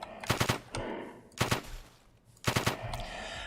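Machine gun fire in the top-down zombie shooter Field Survivor comes in three separate rapid bursts, each one a quick cluster of sharp shots with short pauses between them.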